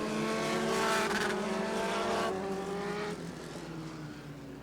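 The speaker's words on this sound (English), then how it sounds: "here comes Fensky to challenge for 3rd, and she takes it." Midget race cars run a heat at Rockford Speedway, their engines a steady high droning whine with slowly sliding pitch, heard from a moderate distance and easing off after a few seconds.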